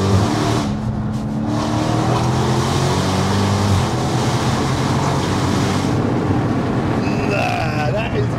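Dodge Hellcat car with an 800 bhp engine drives with the windows down, a loud steady engine roar and road rumble throughout, with people talking over it.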